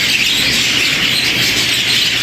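A flock of budgerigars in an aviary chatters and chirps continuously, a thick wash of high twittering at steady loudness with no voices over it.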